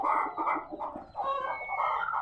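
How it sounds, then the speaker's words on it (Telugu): Several native country roosters crow and cluck in overlapping calls, close and moderately loud, with no voices over them. "ఇవి మొత్తం పుంజులు ఫ్రెండ్స్,"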